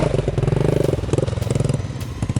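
A motorcycle engine chugs and revs steadily at close range as the bike rides through deep mud, its pulsing drone thick and labored as if pushing through heavy resistance.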